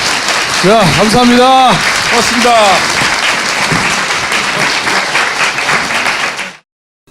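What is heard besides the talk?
audience applause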